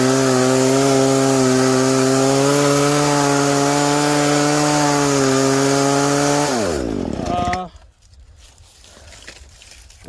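Chainsaw cutting through locust wood, the engine holding a loud, steady, slightly rising whine under load for about seven seconds, then dropping pitch and cutting out to quiet rattling as the cut ends.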